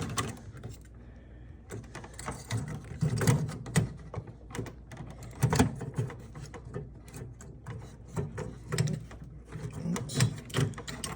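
A plastic latch on a Porsche Cayenne headlight assembly clips into place during a bulb change, heard as a series of close, small plastic clicks and rattling handling noises spread over several seconds, with no speech.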